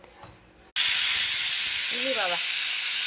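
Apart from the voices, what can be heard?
pressure cooker whistle releasing steam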